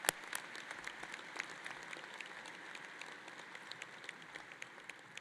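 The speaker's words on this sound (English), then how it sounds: "Please join me in a robust round of applause for our readers" A large commencement crowd at Eastern Michigan University gives its readers a sustained round of applause. The clapping is steady and somewhat distant, with a broad, even roar and occasional sharper claps poking through.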